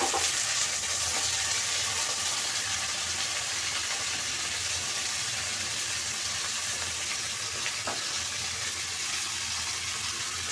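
Vegetables for a Chinese vegetable dish fry in a pan with ginger, giving a constant dense sizzle that stays loud and even throughout, with a faint clink near the end.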